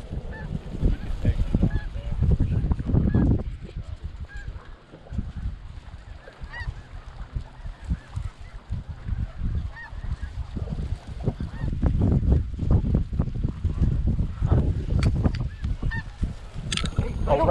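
Snow geese honk continuously at a California refuge during a hunt from a pit blind, a dense, overlapping chorus of calls from a large flock, loud and fairly near, with faint voices now and then.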